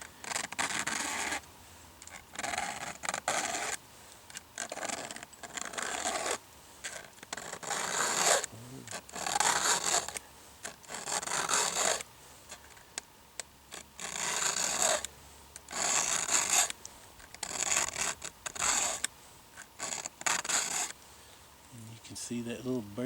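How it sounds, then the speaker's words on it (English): A file sharpening chainsaw chain teeth, close rhythmic rasping strokes repeating about once per second in bursts, with a person talking between and over the strokes. "you turn your file and sharpen this way right here"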